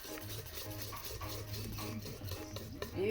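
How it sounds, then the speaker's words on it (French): Batter being stirred in a bowl with a utensil, a steady, continuous scraping and sloshing close by, with no voices. "Je vais remuer ma pâte."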